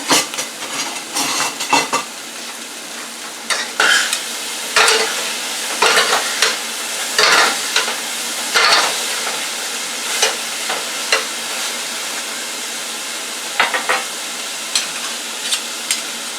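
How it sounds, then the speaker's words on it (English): Broccoli stir frying in a pan, a steady close sizzle broken by repeated scraping and clattering stirs of a utensil against the pan. "now we're going to stir fry that."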